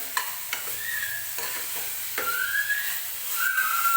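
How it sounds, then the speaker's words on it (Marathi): Masala for chicken gravy roasting in a pan, with intermittent spoon scrapes and taps over a quiet sizzle, plus a thin whistling tone rising and fading in the background, up close and with no speech. "छान मसाला भाजून घ्यायचा आहे"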